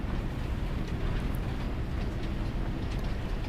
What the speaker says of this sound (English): we can enjoy this little train ride, little journey.